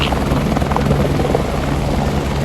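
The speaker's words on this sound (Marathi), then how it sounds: "पाहू शकता काय हेलिकॉप्टर" A helicopter's loud, steady rotor roar fills the whole moment, close and constant with a rhythmic thudding beneath it, on the Kedarnath yatra route.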